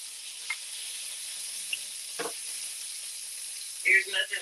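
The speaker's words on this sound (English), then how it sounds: "There's nothing like the sound of cooking. That sizzle." Pork loin simmering in gravy in a pan gives a soft, steady sizzle and hiss, with faint clinks and brief bumps near the end.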